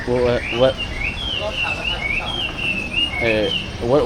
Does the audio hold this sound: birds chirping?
yes